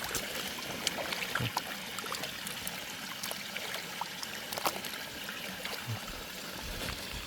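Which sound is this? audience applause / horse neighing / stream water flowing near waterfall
stream water flowing near waterfall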